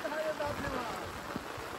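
Rain falling steadily during a fishing outing in heavy monsoon rain, a constant soft hiss with a few low thumps, while a voice talks over it.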